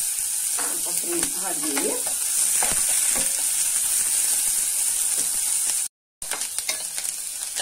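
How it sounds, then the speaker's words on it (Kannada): Onions fry on a medium-high flame until golden brown, a loud steady sizzle with stirring scrapes near the start and a brief dropout near the end; one short spoken word is heard. "ಒಂದು ಹೈ ಆದ್ರೂ ಮೀಡಿಯಂ ಫ್ಲೇಮ್ ಅಲ್ಲಿ ಹಾಕೊಂಡು ಫ್ರೈ ಮಾಡ್ಬೋದು"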